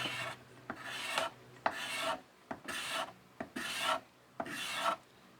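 A card scraper pushed across wood gives five or six steady, raspy scraping strokes in an even rhythm, close and clear, with short pauses between strokes and no talking.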